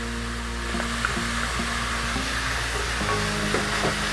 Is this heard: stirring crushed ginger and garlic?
yes